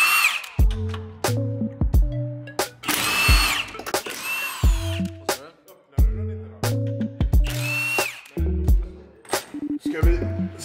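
Power impact tool removing the top mount bolts on a BMW M4 during a coilover install, firing in short repeated bursts with whirring spin-ups and ratcheting between them, close and loud.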